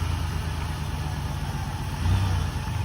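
A 2005 minivan engine idles steadily with a low, even rumble, rising slightly for a moment toward the end; no voices.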